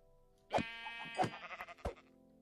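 Three short sheep bleats from Minecraft, clear and close, spaced about half a second apart with a quiet, steady background between them.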